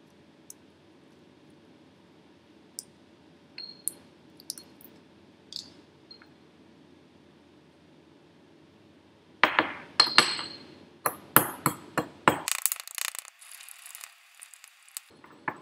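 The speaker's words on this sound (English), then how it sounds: "we are going to take one antacid tablet and we will grind it into powder using mortar and pestle" A pestle grinds an antacid tablet in a mortar, starting with sparse faint clinks and then breaking into a burst of sharp crunching, scraping and clinking strokes up close, with no talking.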